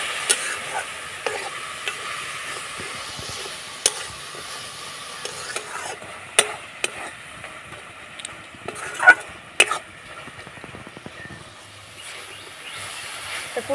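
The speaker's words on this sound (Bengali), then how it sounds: "এবার নাড়াচাড়া করে পুরটা তৈরি করে নেব।" A spoon stirs a jaggery pitha filling, loosened with a little water, in a pan. Irregular scraping and clacking strokes run throughout over a soft, steady sizzle, with a few sharper knocks near the middle.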